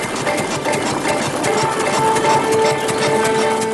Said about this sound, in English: The tractor's pulling a reaper binder, one of the most important agricultural machines of the age.